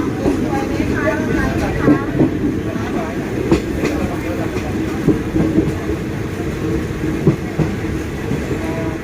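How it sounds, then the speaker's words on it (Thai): A train pulls away from the Phra Ratchawang Sanam Chan stop on the Ratchaburi line toward Nakhon Pathom, giving a steady loud rumble with rhythmic clacking of wheels over rail joints and someone talking over it. "เคลื่อนขบวนออกจาก ที่หยุดรถนะครับ พระราชวังสนามจันทร์นะ"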